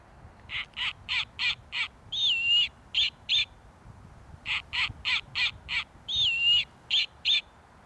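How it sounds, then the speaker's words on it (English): A toy owl plays a recorded snowy owl call: repeated bursts of harsh, barking, crow-like notes in a quick series, broken by a whistling squeal. The whole pattern plays twice, clear and fairly faint, with no talking. "inside is a recording of a real snowy owl call"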